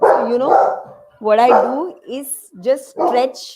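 A dog barks a few short times in the background of a home physiotherapy session, partly masked by a person speaking steadily in the foreground.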